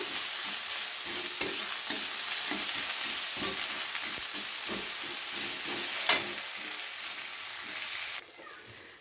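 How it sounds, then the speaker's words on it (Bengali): Chopped onions lightly frying in a pan for a rohu fish curry, with a soft continuous sizzle and a few sharp scrapes from a stirring utensil, heard close with no talking. "হালকা একটু নাড়াচাড়া করে কিন্তু ভেজে নিতে হবে, খুব বেশি ভাজা যাবে না"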